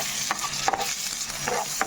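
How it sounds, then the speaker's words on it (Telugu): Ginger garlic paste frying in a pan, a steady close hiss of sizzling oil with a few soft scrapes of stirring, no voices. "ఇదంతా పచ్చి వాసన పోయే వరకు ఫ్రై చేసుకోవాలి."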